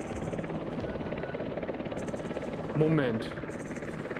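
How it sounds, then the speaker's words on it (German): Helicopter flying past in the VR climbing game The Climb 2, a steady rotor drone throughout with a brief louder swell near the end, under a man's speech. "Und wieder Hubschrauber unterwegs."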